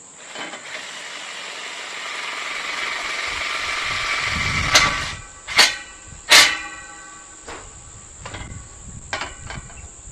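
A Safetech Trilatch hinge being screwed onto a swimming pool gate, a drill whirring and then a few sharp, loud bursts of driving close by, followed by lighter scattered clicks, with no talking.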